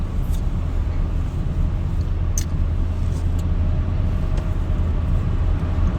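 A car heading home carries a loaded cargo area, and its cabin fills with a loud, continuous low rumble of engine and road noise, broken by a few faint ticks and rattles, with no voices.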